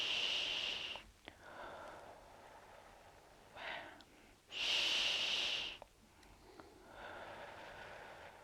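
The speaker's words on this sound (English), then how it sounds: "I just need to take in a couple of deep breaths." A masseuse takes a couple of deep breaths, each a long, breathy inhale followed by a stronger, louder exhale, heard close up in an otherwise quiet room with soft rustles between them.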